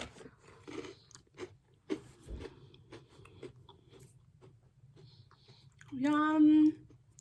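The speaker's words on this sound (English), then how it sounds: "So I'm just munching on some noodles as I'm doing some work." Someone munches on noodles while working, giving soft, close crunching and chewing sounds in an irregular rhythm, followed near the end by a brief louder voiced sound.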